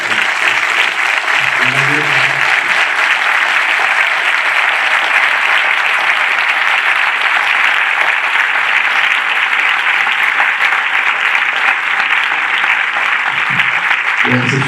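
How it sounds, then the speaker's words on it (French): An audience at a film preview screening gives the film crew a long round of steady, dense applause, loud and unbroken from start to finish. "vous pouvez peut-être vous applaudir"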